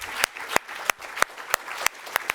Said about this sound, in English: if we could give them a nice round of applause here